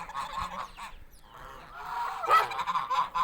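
Several geese honk in short overlapping bursts, fairly faint and a little distant, with a louder honking call near the end.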